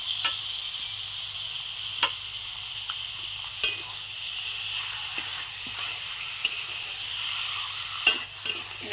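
Meat sizzles gently in a pan with already-fried spice paste, a steady soft hiss broken by a few sharp clinks and scrapes of stirring, close by and with no talking.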